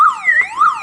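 A Toyota Camry car alarm siren wailing loud and close, its pitch sweeping down and back up in a rapid repeating cycle, alone with no voices.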